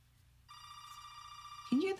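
A telephone bell rings steadily in a quiet room, fairly close and clear, with a voice starting to speak over it near the end.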